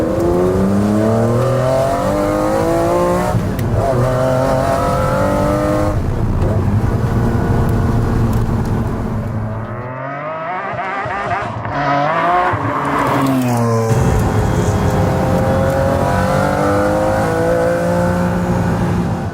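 A McLaren F1 road car's engine revs loud and close, climbing and falling through the range in repeated sweeps, with a brief lull and a pass-by-like pitch drop midway before rising again.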